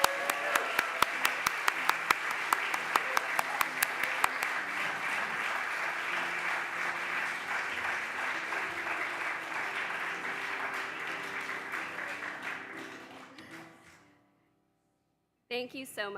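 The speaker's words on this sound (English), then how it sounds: "let's have a round of applause for Melissa and Owl Magazine" Audience applause at a comics awards ceremony, opening with sharp individual claps that blend into a steady wash of clapping, which fades out to near silence before a brief sound returns at the end.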